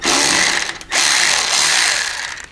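A power tool runs loud and steady while removing a 10 mm bolt from a motorcycle air deflector mount, with a brief dip in the whine near the start before it resumes continuously.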